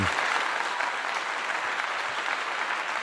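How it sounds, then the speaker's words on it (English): Steady clapping, likely a short applause sound effect played during a live stream, continuous and fairly even throughout at moderate level. "Another clap to you."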